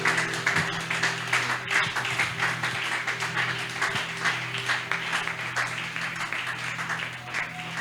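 A church congregation at an evening service applauds steadily, a dense continuous wash of clapping that stays even throughout, with a low hum underneath.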